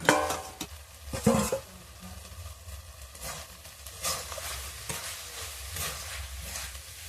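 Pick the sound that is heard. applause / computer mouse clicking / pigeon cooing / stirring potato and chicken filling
stirring potato and chicken filling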